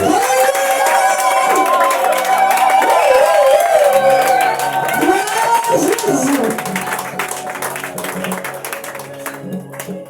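A church congregation applauds and cheers for pastor Roland Loeba, a loud, sustained wash of clapping and whoops that carries on alongside singing tones and fades slowly toward the end.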